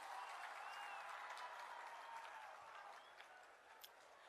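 Faint, steady applause from a large outdoor crowd at Bhagwant Mann's swearing-in ceremony at Khatkar Kalan, welcoming the ministers, a distant continuous wash of clapping.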